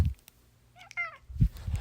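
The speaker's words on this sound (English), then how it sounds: "Oh, here's the cat, by the way." A house cat gives a single clear meow in a quiet room, short and close, with low thumps and handling noise just after.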